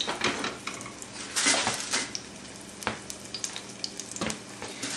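Tuna burger patties sizzle and spit as they brown in a hot pan, with a continuous close frying hiss punctuated by light clinks of a utensil against the pan, and no talking.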